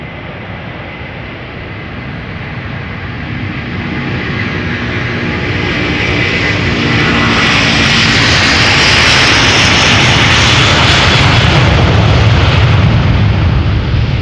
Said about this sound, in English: Now, don't these A330s make good noise with their engines